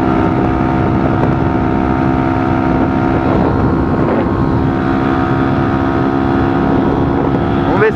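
A motorcycle fitted with a new exhaust holds a steady, high-pitched engine drone at high speed, heavily buffeted by loud wind noise throughout.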